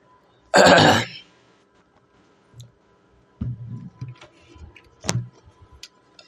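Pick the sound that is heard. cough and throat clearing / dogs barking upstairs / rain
cough and throat clearing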